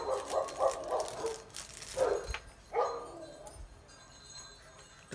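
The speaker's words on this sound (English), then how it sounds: "Whole neighborhood is barking right now." Faint, distant dogs across a neighborhood bark in scattered bursts, fading into quiet background noise.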